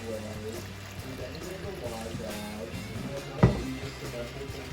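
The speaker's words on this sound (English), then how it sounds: "Add a little more water." Water pours steadily into a pan while making pepper steak, a continuous running splash with a brief louder splash partway through, amid kitchen background noise.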